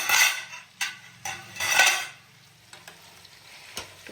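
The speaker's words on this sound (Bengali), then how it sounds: "আর এখানে পেঁয়াজ ভাজা হচ্ছে" Onions fry in a pan, with loud bursts of stirring and spatula scrapes against the metal over a lighter, continuous sizzle, close up.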